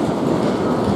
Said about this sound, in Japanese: こちら乗ってきた電車ですね。